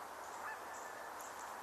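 Geese give honking calls from a distance, faint repeated honks rising over a soft outdoor background hiss, with no one speaking.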